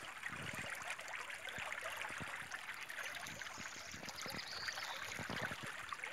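A river flows in the evening, its soft, continuous rushing and trickling steady and fairly faint throughout, with no voices over it.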